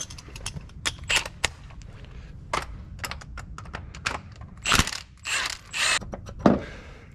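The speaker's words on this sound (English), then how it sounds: "now we're gonna pull this crank pulley back off." Work on a Toyota Camry crank pulley during a timing belt and water pump job brings a string of sharp metallic clicks, clanks and scrapes at close range, irregularly spaced with short pauses between, and no voices.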